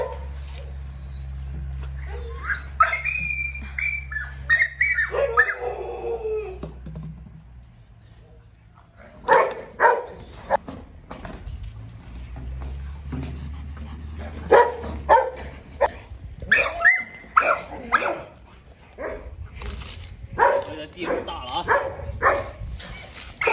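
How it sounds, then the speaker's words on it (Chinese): Rottweiler puppies in a kennel yard give short, scattered yips, whimpers and barks at close range, in bursts with pauses between them and a low rumble underneath. "把这两个小狗已经领过来了，让它在这院里试，看看，在这院里活动活动"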